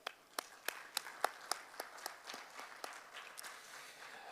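Audience at a men's conference on positive masculinity claps in a steady spread of sharp, distinct hand claps, moderately distant and thinning out toward the end with no speech over it.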